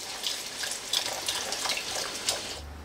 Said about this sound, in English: I'm putting in 4 cups, or about 1 litre, of liquid beef stock. I'm just going to pour that straight in.